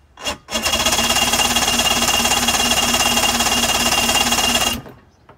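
A 2005 Mercury 115 two-stroke outboard on a 17-foot Mako center console being started, giving a short clatter and then a loud, steady pulsing mechanical roar that lasts about four seconds and cuts off abruptly.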